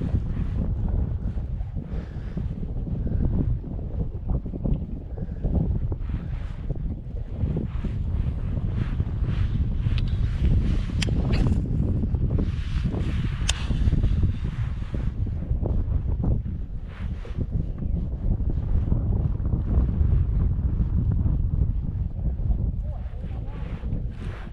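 Wind buffets the microphone steadily while a Pelican Catch PWR 100 fishing kayak drifts along a bank on open water, with a constant rushing roar and gusty swells throughout.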